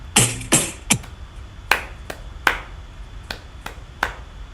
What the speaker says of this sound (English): So I'm going to start us all clapping, and then we'll sing.